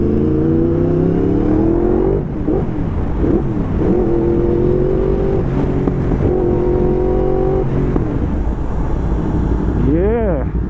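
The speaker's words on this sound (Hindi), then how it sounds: "हमें स्पोर्ट्स बाइक चलाने मिलेगा और वो भी R1" A Yamaha R1 sports bike engine drones loud and close while riding, its pitch climbing and dropping through gear changes with a brief rev swell near the end, steady wind rush underneath.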